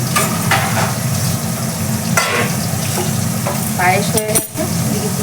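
Bitter gourd frying in a pan gives a steady, close sizzle with occasional stirring scrapes and clinks, and a faint voice briefly in the background.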